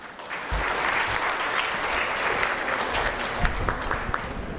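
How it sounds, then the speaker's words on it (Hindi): Applause at an award distribution ceremony, a dense, loud round of clapping from a seated audience, steady and continuous with a few louder claps, no talking over it. "एक बार वापस जोरदार तालियां हो जाए उनके लिए"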